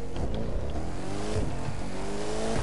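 A Mercedes-AMG car engine revving hard on launch control, a loud sustained roar held steady throughout, close up with no pauses.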